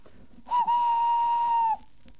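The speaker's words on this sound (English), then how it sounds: "Thomas in return always whistles" A steam tank engine sounds one sustained whistle, a steady bright tone lasting over a second after a brief stutter at the start, heard alone over quiet background hiss.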